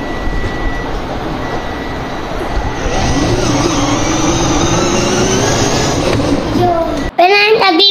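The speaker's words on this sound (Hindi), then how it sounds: "तो गाइस अभी अब पीछे जाएगी गाड़ी।" A car reverses with a steady, loud motor whine and rumble that rises slightly in pitch, running continuously until it cuts off abruptly near the end, followed by a short burst of voices.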